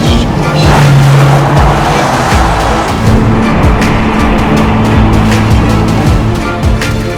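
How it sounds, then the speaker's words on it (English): A loud, sustained V12 engine roar with rumbling exhaust from a widebody Rolls-Royce Cullinan Series II, steady throughout, recorded close by with no talking. "the beautiful V12 exhaust."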